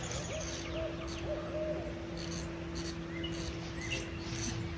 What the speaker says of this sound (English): I have just never heard an owl sound that way.